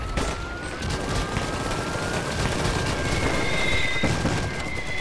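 Mortar fire and explosions in the Iron Harvest real-time strategy game, set in a 1920s diesel-punk world, come as a loud, continuous barrage of booms and gunfire with rising siren-like tones above.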